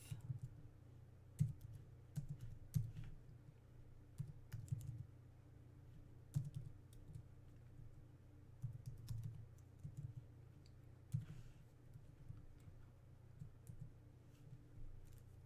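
Someone types on a computer keyboard, entering a list of names, with quiet irregular bursts of key clicks and short pauses between them, close and alone.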